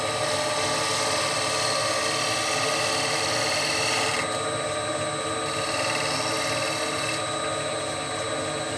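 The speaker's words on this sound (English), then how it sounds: "This is called a shear cut or a shear scrape." A lathe spinning a wooden bowl while a gouge takes a light shear scrape across the surface, a loud constant motor whine and rushing hum with faint cutting texture, briefly changing tone partway through, no talk.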